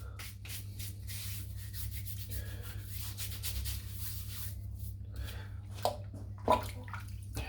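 Mitchells Woolfat bar soap being lathered between wet hands for a head shave, a close, continuous slick rubbing and squishing with a couple of sharper wet slaps near the end, over a low hum.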